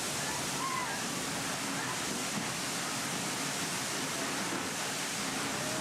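A spectacular waterfall cascades in a steady, dense hiss of falling water that stays constant and broad throughout, with a narrating voice faintly underneath.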